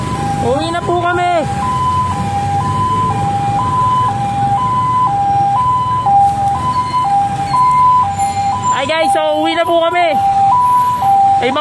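Fire truck sirens wail in a steady two-tone pattern, with louder warbling bursts near the start and end, as vehicles draw close to a fire on Visayas Avenue, Quezon City.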